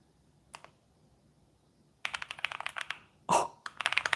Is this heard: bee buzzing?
no